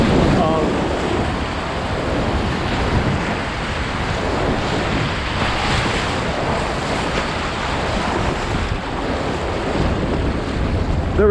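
River rapids in Russell Fork Gorge, Virginia, rush in a loud, continuous roar of churning whitewater close by, with gusts of wind buffeting the microphone and no pause in the flow.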